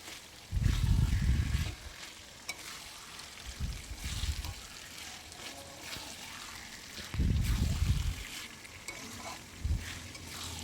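Mutton masala paste being stirred and fried in a pan, with low scraping and rumbling bursts over a soft, steady sizzle and no voices.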